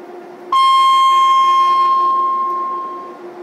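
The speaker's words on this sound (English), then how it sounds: "this Dockland rail service and making most brutal alarm sound, so you can hear some." A loud, harsh 2,200 hertz Docklands rail service alarm tone sounds abruptly and holds steady for about three seconds, piercing and buzzy, slowly fading at the end.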